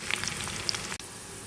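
Cumin, mustard seeds, onion, green chillies, curry leaves and cashews frying in hot oil for sago khichdi, a close, steady crackling sizzle with scattered seed pops, briefly broken by a short dip.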